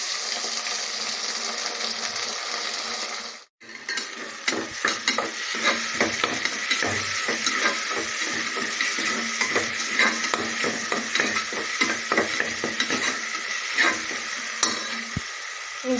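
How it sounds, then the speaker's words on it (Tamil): Ginger garlic paste fries with onions in a pan for mushroom biryani. A loud, continuous sizzle runs throughout, with repeated scraping stir strokes and one brief dropout near the start. "நம்ம இஞ்சி பூண்டு தேவையானது போட்டுக்கோம்."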